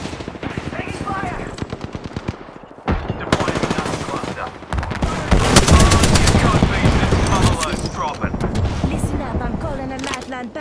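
Rapid automatic gunfire in the video game Apex Legends, loud and sustained with dense bursts of shots and impacts throughout, briefly thinning before intensifying again, with game voices mixed in.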